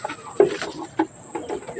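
A noisy rooster nearby gives a series of short, loud clucks and squawks at irregular intervals over a faint, steady background hum.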